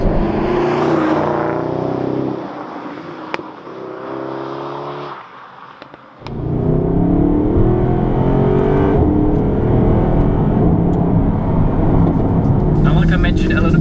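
The 6.2-litre naturally aspirated V8 of a Mercedes-Benz SLS AMG revs loudly and close. Its note rises and falls, dips briefly, then swells into a sustained high-rpm roar.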